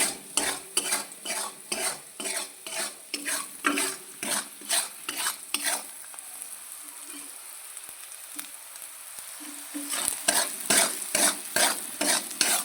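Brinjal frying in a pan with turmeric and salt while a spoon stirs it, giving close, rhythmic scraping strokes over a soft sizzle, with a short quieter pause before the stirring picks up again.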